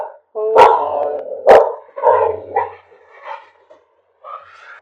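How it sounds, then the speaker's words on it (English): A dog barks several times up close, sharp loud barks with short gaps, followed by softer yips and whines. "my dog is barking"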